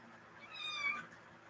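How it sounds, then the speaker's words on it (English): A cat gives a single drawn-out meow, close and clear, rising and falling over about half a second against a quiet indoor background with no talking. "Why are you meowing now?"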